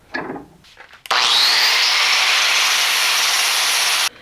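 Abrasive scrubbing of rust and paint from a metal piece: a brief quiet rustle, then a loud, steady hissing scrub runs unbroken for about three seconds before stopping abruptly.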